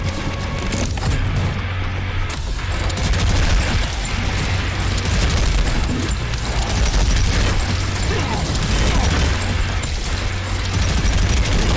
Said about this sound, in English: Another very meaty rocket launcher.